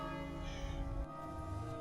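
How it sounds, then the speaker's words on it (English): A dinner bell rings in the King's Quest video game, its bright sustained tones layered over game music and ambient background sound at moderate loudness. "That's the dinner bell."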